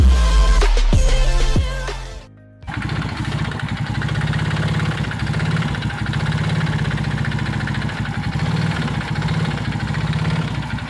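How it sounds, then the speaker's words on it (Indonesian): A Suzuki Shooter motorcycle engine with a worn connecting rod and piston idles close and loud after a brief gap, with a steady rhythmic knocking running through the exhaust note and no speech. "Nah, jadi suara mesinnya seperti tadi ya."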